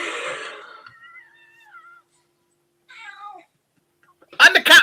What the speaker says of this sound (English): the cat meowed right on cue